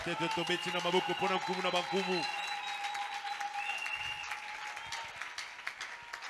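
A church congregation at a Sunday Easter worship service in a French-speaking setting breaks into sustained applause and cheering. It follows an amplified voice with music in the first two seconds, then dense clapping continues steadily to the end.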